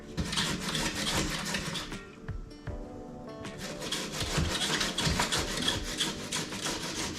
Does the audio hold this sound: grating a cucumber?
yes